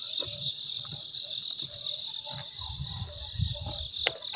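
Crickets chirp steadily in a high, continuous trill, with faint scattered low rustles and knocks around them in a quiet setting.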